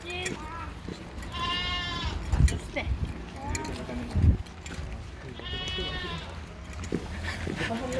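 Goats bleat in a few harmonic calls near a roadside walk outside Pamukkale, Turkey, with two loud calls standing out over background chatter and thumps.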